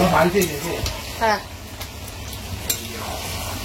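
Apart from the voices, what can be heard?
food frying in a pan being stirred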